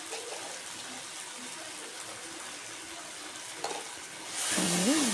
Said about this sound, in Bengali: মশলা মানে সর্ষে বাটা যেটা করা আছে ওটা দিয়েছি, দিয়ে কিছুক্ষণ নাড়াচাড়া করবো